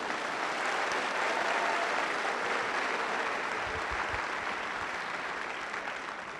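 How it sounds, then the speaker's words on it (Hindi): Training seminar audience clapping for themselves, a steady dense applause from a large room that holds evenly throughout with no voices over it. "आपके लिए आज आप खुद ही ताली बजाइए"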